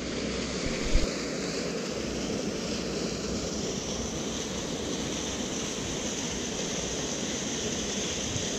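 A small waterfall pours into a fairly deep pool on a trout stream, giving a steady, dense rush of water that stays constant throughout with no voices.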